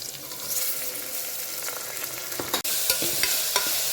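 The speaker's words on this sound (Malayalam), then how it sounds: "ചതച്ച് വെച്ചിരുന്ന ഇഞ്ചി വെളുത്തുള്ളി ഇടാം, എന്നിട്ടൊന്ന് വഴറ്റാം" Crushed ginger and garlic sizzle steadily in a hot pan, close and continuous, with a few sharp spatula scrapes and one brief dropout partway through.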